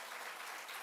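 An audience at a school board meeting applauds, a brief wash of dense clapping heard faintly from across the room.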